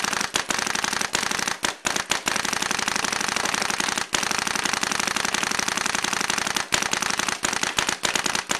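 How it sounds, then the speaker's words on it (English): An Ion paintball marker fitted with a Dye Ultralight barrel fires reballs in a long rapid burst, sharp near pops running almost continuously with a few brief pauses, no talking. "I'm gonna shoot some reballs out of it"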